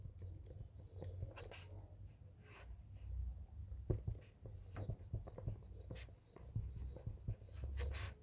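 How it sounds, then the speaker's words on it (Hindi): Pen scratching on paper as a topic is handwritten, soft close strokes in short irregular bursts against a quiet room, with faint breathing. "पहले हम विषय लिखते हैं।"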